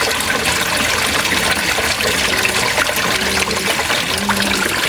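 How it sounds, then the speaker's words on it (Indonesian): Water gushes out of an opened washing machine drain, a loud, continuous, rushing pour with no pauses and no talking. "Nah, airnya sudah nyembur keluar setelah dibuka."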